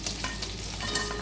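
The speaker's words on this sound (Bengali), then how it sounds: "মাছের মাথাটা ভাজা হয়ে গেছে" Hilsa fish head frying in hot oil in a home kitchen, a steady close crackling sizzle with bits of stirring, continuous and alone for a moment.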